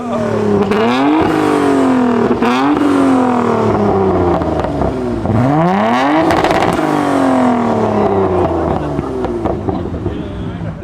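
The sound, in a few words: car engine revving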